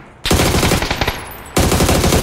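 Rapid automatic gunfire in a shooting video game, two loud bursts of fast, evenly spaced shots separated by a short pause, close and dominant with no talking.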